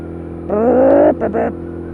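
A litre-class motorcycle accelerates hard as the throttle is wound open, its engine note climbing sharply in pitch, then two quick further bursts of revs before it drops back. The sound is loud and close.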